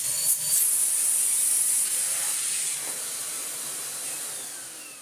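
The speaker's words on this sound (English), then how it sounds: "All I can hear is the airflow. It's lovely." Steady airflow hiss from a 2014 Numatic James JVH-180 vacuum cleaner running continuously, loud at first and easing slightly, with no one talking.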